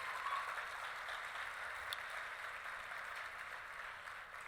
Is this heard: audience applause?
yes